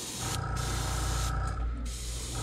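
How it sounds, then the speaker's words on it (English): An airbrush at low pressure, about 12, sprays gold paint onto custom crankbait fishing lures with a continuous close hiss that briefly thins and swells with short bursts, alone without talk. "And I'm spraying it down real. My pressure's down."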